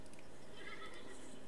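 A horse in a farming video game gives a faint, brief whinny over a low, steady background of game audio.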